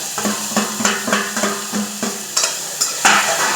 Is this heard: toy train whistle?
no